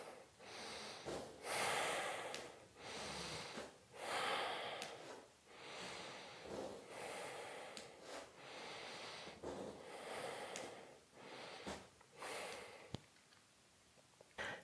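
Slow, steady yoga breathing, each long inhale and exhale drawn audibly through the nose close to the mic, repeating in a calm rhythm about every couple of seconds with no talking.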